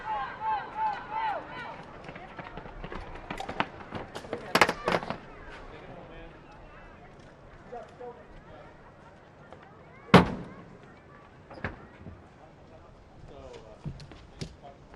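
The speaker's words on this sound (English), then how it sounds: "Shots off." Sharp gunshots ring out during a SWAT assault challenge, with a couple of loud isolated cracks and scattered smaller pops spread across the stretch, heard under ongoing talk and background commotion.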